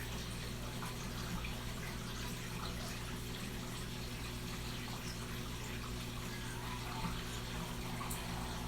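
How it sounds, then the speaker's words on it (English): Water and sand are siphoned from a 125-gallon saltwater reef aquarium during a 10-gallon water change, giving a steady, continuous rushing and trickling flow over a constant low pump hum. "I'm removing 10 gallons of water to do a water change, and at the same time, I get to siphon the sand bed."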